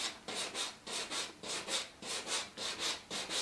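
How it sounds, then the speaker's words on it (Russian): A nail file scrapes back and forth across a faux leather boot in quick, even strokes, about a dozen rhythmic rasping passes, close and fairly quiet with no talk. "наши пилки для ногтей очень уместны в этом деле"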